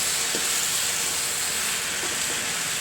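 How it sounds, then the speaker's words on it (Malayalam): Steady broadband sizzling of dragon chicken stir-frying over high heat in a hot pan, with a few faint scraping knocks of stirring now and then; no voices. "നല്ല തീക്കകത്ത് വെച്ചിട്ട് ഇങ്ങനെ ഇളക്കി കൊടുക്കണം"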